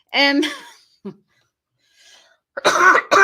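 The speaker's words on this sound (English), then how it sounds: "Now I coughed into the mic." A sharp, close cough bursts out loudly, followed by a short throat noise, a near-silent pause, then a second harsh cough right at the microphone.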